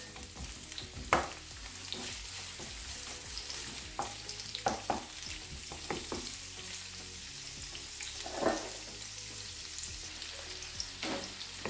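Onions hitting oil in a pan for a Nigerian egg stew with yam sizzle and fry steadily, with sharp clattering stirs and utensil knocks scattered throughout at close range, no voices.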